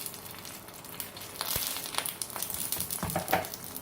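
Ghee sizzling on a cooked moong dal paratha on a griddle, a steady soft frying hiss with faint scraping and crackles, close and quiet.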